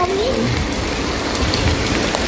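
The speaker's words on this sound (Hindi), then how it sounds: "बारिश बहुत ही ज्यादा तेज हो गई है" Heavy rain pours down steadily and loudly around a home, a dense continuous hiss of drops with no break and no voices.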